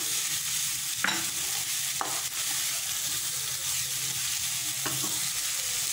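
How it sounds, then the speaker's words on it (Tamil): Fish sizzles in a hot pan with salt as it is sautéed for a shredded fish dish, a steady soft frying hiss broken by a few sharp scrapes of stirring. "உப்பு ஆட் பண்ணிவிட்டு நல்லா வதக்கிக்கலாம்."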